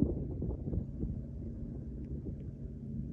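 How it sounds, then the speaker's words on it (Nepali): Wind buffeting the microphone during weekend cycling in Jeddah, a steady low rumble filling the whole stretch with no voices. "हावा लागिरहेछ"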